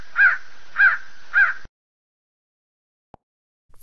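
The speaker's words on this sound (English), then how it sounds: "Crow." A crow caws three times in a steady rhythm, loud and close with no other sound, then falls silent.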